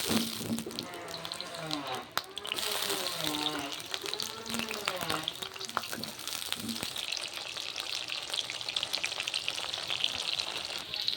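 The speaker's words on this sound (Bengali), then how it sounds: "এখন আমি সর্ষের তেল দিয়ে দেব। আমি ভালো করে ভেজে নিব দুধ কচুর ডাঁটাগুলো।" Dudh kochu stems frying in mustard oil, a dense, steady hissing sizzle that runs throughout, close and moderately loud, with a person talking over it in the first half.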